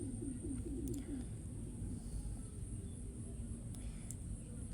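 A pet pigeon coos briefly in a soft rolling burst near the start, quiet against a steady low background hum.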